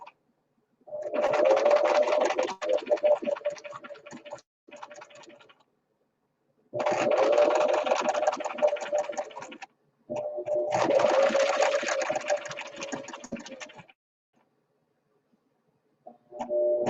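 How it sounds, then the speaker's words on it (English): A sewing machine stitching a small zigzag along the outer edge of a fabric banner, running in three long steady whirring bursts separated by short pauses, close and fairly loud with no talking. "I'm going to do a little tiny zigzag stitch, and I'm not changing threads"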